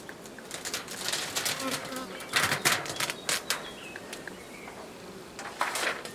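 Honey bees buzzing around hive boxes during honey harvesting with bee escapes, a dense mid-distance drone with passing individual bees and faint background sounds.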